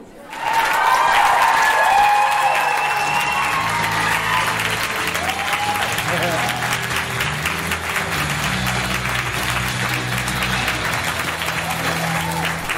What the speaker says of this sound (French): Et voilà, Marc qui arrive sous un tonnerre d'applaudissements.